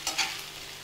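Noodles stirred in a hot pan make a short burst of sizzling hiss with two quick stirring swishes at the start, then a steady fry.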